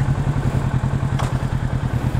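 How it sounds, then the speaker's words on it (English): Kawasaki Ninja 650 motorcycle with a 650cc parallel twin engine running steadily at close range, a low, even pulsing rumble with a brief higher whoosh midway. "this is quite a big bike, 650cc parallel twin engine"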